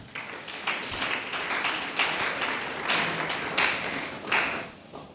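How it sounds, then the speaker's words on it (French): Church congregation applauding for the Lord, a steady wash of many hands clapping in a bright, roomy space with a few louder bursts throughout. "Acclamons pour le Seigneur."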